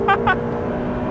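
Twin-turbo V8 of a mid-engined Ferrari sports car, Roma or F8 Spider, at full throttle on the road: a steady loud engine drone with two short voiced exclamations over it near the start.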